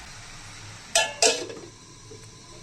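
Metal lid set down on a pot of brinjal and tomato curry, two quick clanks close together, close and fairly loud over a faint steady background hiss.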